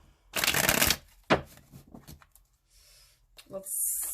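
Tarot cards riffle in two close shuffling bursts, a long crisp one and then a shorter one, with softer card handling and light taps between them and a voice talking in the background.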